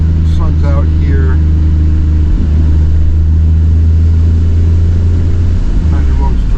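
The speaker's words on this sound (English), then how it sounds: "Okay, I can rip some gears." A car engine revs through the gears on a dry road, a loud, steady, close drone that holds throughout while a voice talks over it.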